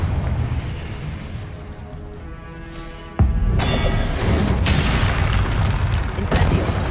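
A Confringo blasting spell detonates in the Hogwarts Legacy video game, a sudden loud boom cutting in after a quieter stretch and leaving a dense, rumbling roar with a few sharp crackling bursts.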